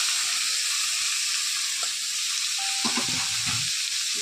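Five-spice tempering with dried red chillies and bay leaves sizzles in hot oil for a banana-flower vegetable dish, giving a steady loud hiss, then bumps and clatter as the vegetables are added.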